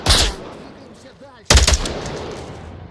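Two loud, sharp bursts of M16A4 rifle fire in the VR shooter Onward, one at the start and another about midway, each a quick cluster of cracks trailing off into a lingering echoing tail.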